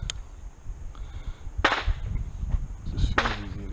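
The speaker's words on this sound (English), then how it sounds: "Just feels easy to shoot." A 1911 pistol fitted with a CMC 3.5 lb flat trigger fires two loud, close shots about a second and a half apart, each with a short sharp crack and brief ring.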